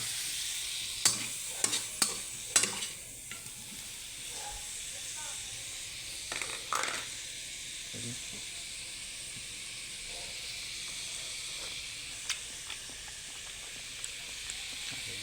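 Longganisa sausages and hotdogs fry in a pan with a steady low sizzle and hiss, a cluster of utensil clicks and scrapes near the start and a few more later.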